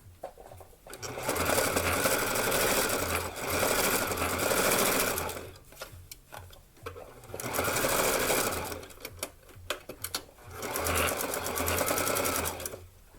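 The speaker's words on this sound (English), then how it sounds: "can actually go ahead and sew that into the original stitching where the neckline was" A domestic sewing machine stitches along a blouse neckline, following the original stitching. Three long bursts of rapid whirring run close and steady, with short pauses between them and a quieter sound in the gaps.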